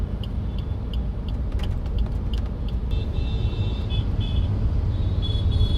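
Road traffic with cars on a Mumbai road in the rain: a steady wash of tyre hiss and engine rumble, with a few brief higher squeals or brake tones partway through, continuous and moderately loud.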